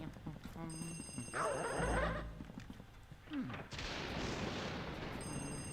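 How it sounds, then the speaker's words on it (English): In the telephone room of the Luigi's Mansion video game, an old telephone rings in bursts at the start and end, set against a busy mix of other game sounds and noise. "in here, we can see that there's a phone ringing"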